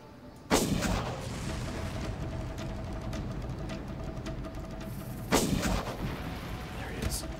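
Gunfire in the PC shooter Far Cry: two loud, sharp shots about five seconds apart, each with a rumbling echo, over steady background ambience and faint game sounds.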